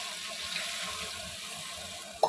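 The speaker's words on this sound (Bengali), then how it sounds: "আমি গরম জলটা ফুটিয়ে রেখেছি, এই ফুটানো গরম জলটা দেবো" Boiled hot water poured into a thin hilsa fish curry in a pot, a soft continuous watery rush at moderate distance, ending with a brief louder splash.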